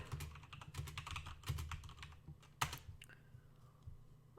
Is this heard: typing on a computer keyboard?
yes